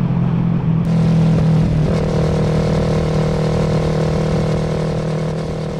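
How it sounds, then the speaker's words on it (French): A motorcycle engine running steadily nearby, a loud, continuous mid-pitched drone that holds roughly constant throughout, with no talking. "c'est une belle moto."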